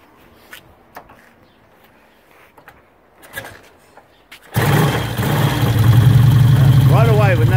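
A 1960 Triumph T100A 500cc motorcycle sits quiet with faint handling noises, then its engine fires up abruptly and settles into a loud, steady idle close by.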